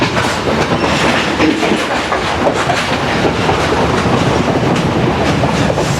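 A Sri Lankan passenger train from Colombo to Jaffna rolls steadily along the rails, a loud continuous rumble with rhythmic clickety-clack of wheels over track joints, heard from inside.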